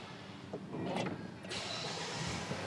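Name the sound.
Mahindra XUV700 engine starting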